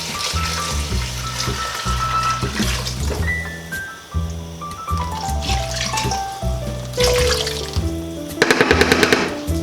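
Water is poured into a pot of homemade Cajun gumbo stock, a continuous splashing and gurgling stream that runs for several seconds, close and fairly loud, with no talking.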